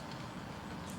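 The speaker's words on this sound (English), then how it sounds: "I hope you can hear it with all the cars going by" Cars passing on a nearby road outdoors, a faint, steady low rumble of traffic with no distinct individual vehicles standing out.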